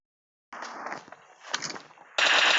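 Gunfire in the video game PUBG Lite: rapid automatic bursts, loud and close, with a heavier, denser volley breaking out at the end, with no voices.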